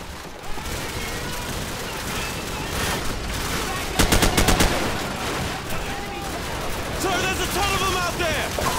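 Rapid gunfire from Call of Duty 4, with bursts and a tight rattling volley near the middle, shot through a wall amid steady game noise, with a player talking over it.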